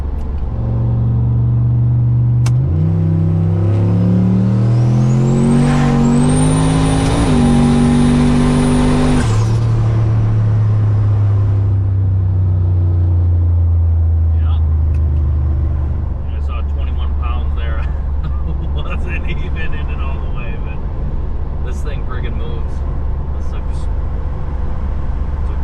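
Turbocharged, nitrous-fed LS-swapped Ford Crown Victoria with a fresh transmission revving hard, engine pitch climbing in stepped surges with a whistling turbo spool, then dropping back to a deep rumbling idle with light rattles.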